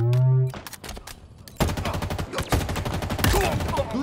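Rapid automatic gunfire from a Halo Infinite multiplayer match, loud bursts of close shots in a dense stream after a brief tone and a short pause.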